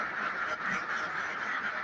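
Laying ducks quack together in a steady, nasal chorus that continues without a break, fairly close and loud, with no talking.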